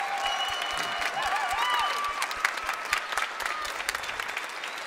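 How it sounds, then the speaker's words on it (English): At a symphonic band concert, the audience gives the backstage and booth tech crew a loud round of applause. Dense clapping is mixed with whistles and cheers, and a few sharp individual claps stand out near the listener. "We should give them all a huge round of applause."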